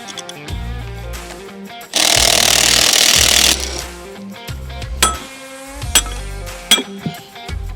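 Retaining bolts and pins come out of an excavator tilt rotator: sharp metallic clinks and knocks, then a loud sustained burst of power-tool noise lasting about two seconds, followed by more scattered metal taps and bangs, close by.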